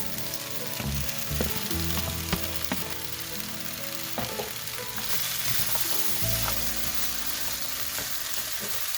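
Sliced kielbasa sizzles steadily in a hot pan, a continuous loud fry with occasional scraping stirs and utensil clinks, no voices.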